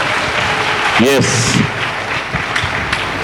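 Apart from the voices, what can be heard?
congregation clapping hands to welcome God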